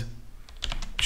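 A computer keyboard is tapped in a brief, quick burst of several close keystrokes while an AI image prompt is typed, with a low background hum.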